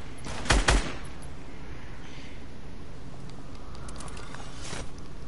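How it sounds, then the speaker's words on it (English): Hunting rifle fire in a shooting video game: a quick pair of sharp shots near the start and another faint burst later, set against a steady low background hum. "I'm using a hunting rifle"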